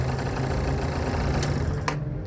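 A scooter engine idles roughly with an uneven, rumbling chug, steady and close, then cuts out abruptly at the end.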